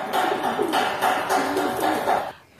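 Racing pigeons coo while crowding around drinking water, a soft, repeated burbling chorus close by that pauses at the very end.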